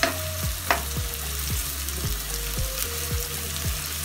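Chopped green onions sauté in a hot pan for a green onion and potato dish. A constant bright sizzle is broken by about eight regular scraping strokes as the spatula stirs them.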